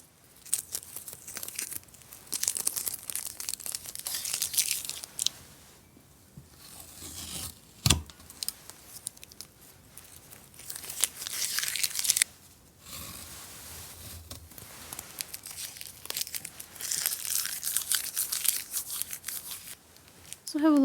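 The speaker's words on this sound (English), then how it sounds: "Now all we have to do is remove the tape." Masking tape is peeled off watercolor paper in several long, crackly tearing strips up close, separated by short pauses, with a voice speaking at times.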